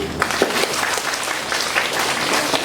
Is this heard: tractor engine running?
no